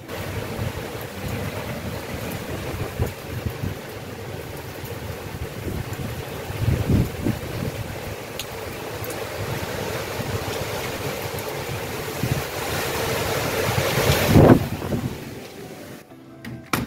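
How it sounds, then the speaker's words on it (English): Strong hurricane wind roars steadily against an uncovered microphone in Florida, with gusts swelling and buffeting, and a sharp crackling burst near the end. "I took my mic off to see if you can hear the wind."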